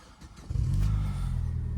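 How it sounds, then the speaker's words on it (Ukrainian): A 2005 Chevrolet Lacetti 1.6 engine cranks briefly and catches, settling into a steady, loud idle heard close up with no talking. "Запускаємо двигуна"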